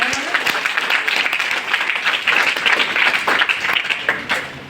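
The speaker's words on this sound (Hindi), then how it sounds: "एक बार जोरदार तालियां इनके लिए हो जाए।" Students on an educational outing for International Moon Day applaud loudly, a thick, steady wash of many hands clapping together that carries on without pause.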